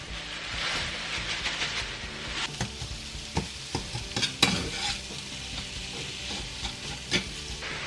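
About 400 grams of pork mince sizzles with onion in a pan for tacos, under a steady hiss broken by repeated stirring clacks and scrapes close by.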